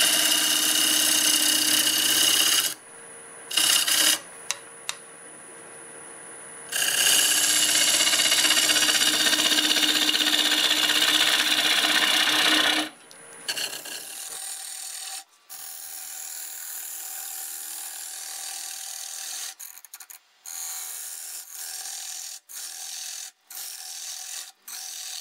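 A lathe spins a cherry bowl while a turning tool scrapes its edge flat, a loud continuous rasping whir in long stretches broken by brief pauses, then quieter intermittent contact.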